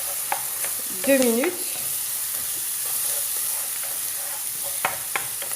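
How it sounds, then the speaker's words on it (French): Chicken meatballs simmer in a pan with a soft, steady sizzle and hiss, a few light scrapes of stirring, and a brief spoken phrase early on. "Je laisse mijoter quelques minutes"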